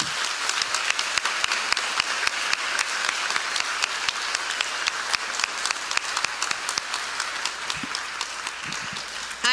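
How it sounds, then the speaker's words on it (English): Audience at a sixth grade moving-up ceremony gives educators a long, steady round of applause, dense close clapping from many hands holding an even level throughout without talk. "a large round of applause."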